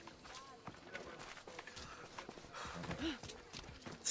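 Horse hooves clip-clop in the video game Assassin's Creed Odyssey, quiet irregular hoof knocks under a soft ambient bed with a brief whinny-like tone near the end.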